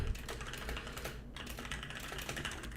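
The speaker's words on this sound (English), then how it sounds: "Let me just type this really quick." Rapid clicking of keys on a computer keyboard, close and continuous with one brief pause, typed quickly with no voices.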